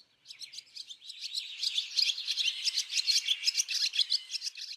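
Young swallow chicks in the nest give a rapid chorus of thin, high chirps that builds from a few calls into steady, pulsing twittering, close and clear with no talking.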